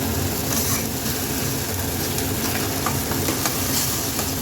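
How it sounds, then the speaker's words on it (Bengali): Tomato puree goes into a pan of frying pasta sauce, giving a loud, close, continuous sizzle with stirring scrapes and small crackles running through it. "এবার দিয়ে দেবো টমেটো পিউরি।"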